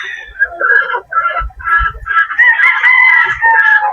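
A Boston Black gamefowl rooster crows loudly and close by, joined by clucking from other fowl, while someone talks under the calls.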